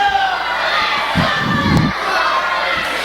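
Wrestling crowd at a pro wrestling anniversary show yelling, chanting and screaming, a dense continuous roar of many voices with a few thumps, loud and close throughout.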